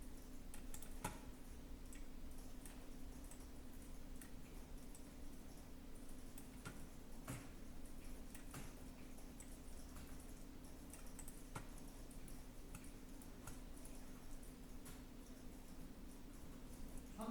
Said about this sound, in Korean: 선택을 한 다음에 스페이스를 누르는 거예요.